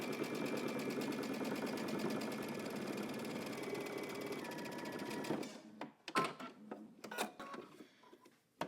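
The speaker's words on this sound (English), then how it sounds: "I'm going to stitch down my 1/4 inch turn" A sewing machine runs steadily for about five seconds, stitching down a quarter-inch turned fabric hem, then stops and gives way to scattered clicks and handling noises; no one speaks.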